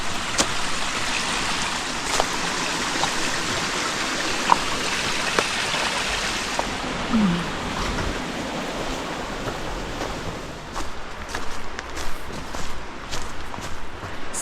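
A small water source along a trail in Linville Gorge burbles and flows steadily as a continuous broadband wash, with occasional faint footstep-like clicks near the end.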